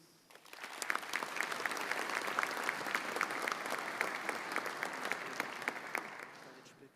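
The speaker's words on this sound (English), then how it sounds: "Let's give him another round of applause." An audience at the Jackson Madison County Sports Hall of Fame 2024 ceremony applauds an honoree, the clapping swelling quickly, holding steady and dense, then fading toward the end.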